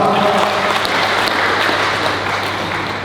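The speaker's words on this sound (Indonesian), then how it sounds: "Tepuk tangan buat kita semua" Applause from attendees at a press conference for a national motor club jamboree in Bali, even clapping throughout over a low steady hum in the room.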